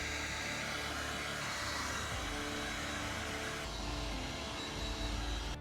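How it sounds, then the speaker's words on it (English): A heat gun blows steadily while drying the spark plug electrodes of an abandoned BMW K100 motorcycle: a continuous close whooshing fan roar, with one shift in tone partway through. "what I'll do, I'll dry all the electrodes with a heat gun."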